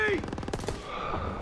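Rapid machine gun fire rattles off in a quick burst in the Call of Duty WW2 game, with sharp repeated shots under a shouted voice and battle noise.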